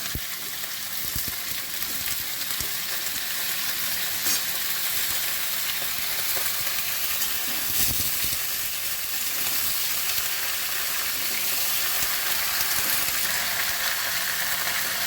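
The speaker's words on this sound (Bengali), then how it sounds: "পুঁই মুচুরিগুলো দিচ্ছি, সব একসঙ্গেই ভাজবো। বেগুন দিয়ে দিলাম" Pui flower buds and brinjal frying together in hot oil in a pan, a dense, loud, continuous sizzle and crackle throughout, close up and without speech.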